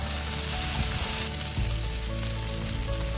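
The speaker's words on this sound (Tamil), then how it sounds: "இப்போ எக்கினுடைய அதர் சைடில் கொஞ்சம் டர்ன் பண்ணிவிட்டு அந்த மசாலாவோட குக் பண்ணுறோம்" Boiled eggs being turned over in a frying masala make a dense, continuous, close sizzle with a low bubbling rumble underneath, loud and with no voices.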